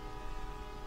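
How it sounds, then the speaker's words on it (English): A steady, sustained train horn sounds in the video game Traincraft, a layered tonal blare held evenly throughout, fairly faint and with no talking. "I'll blow my horn one more time."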